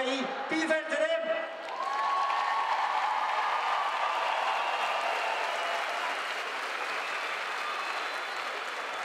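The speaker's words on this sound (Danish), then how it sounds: "Bifald til dem!" Sustained crowd applause fills a hall at a Danish ladies' lunch event at the Døllefjelde Musse market, rising sharply after a brief stretch of speech at the start and holding steady and dense until the end.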